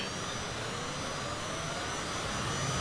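Airliner jet engines spool up at full throttle for a go-around at a regional airport in a flight simulator, a steady, loud, broadband roar with a high whine sustained throughout and no talk.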